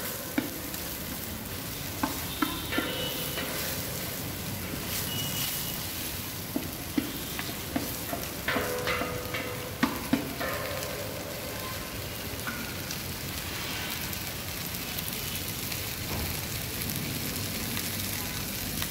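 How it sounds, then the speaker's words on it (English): Milpua sautes in a pan, a continuous soft sizzle broken by occasional sharp clicks and scrapes of stirring, with faint voices in the background. "Now we will add the milpua. Let it saute for some time."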